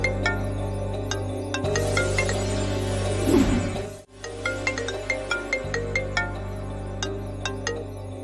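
A phone ringtone plays as a string of bright, evenly spaced melodic chimes that repeat steadily in a quiet indoor setting from a Tamil TV drama, with a low hum underneath and no voices.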